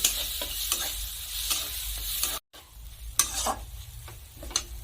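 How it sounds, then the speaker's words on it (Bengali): Chopped coriander is stirred into fried spice masala in a pan, with close scraping strokes and gentle sizzling, a brief silent gap midway and then a few sharper clacks of the spoon against the pan. "ধনেপাতা কুচি ভালো করে কষা মশলার সাথে মিশিয়ে নেব"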